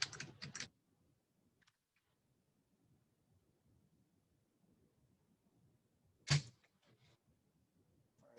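Short bursts of computer keyboard typing, quiet and close, with long near-silent gaps of faint soft background noise between clusters of key clicks.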